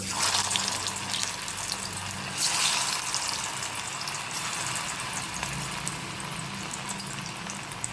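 Fish pieces for Fish 65 frying in hot oil, giving a steady, moderately loud crackling sizzle that runs throughout with a broad hiss and occasional louder bursts.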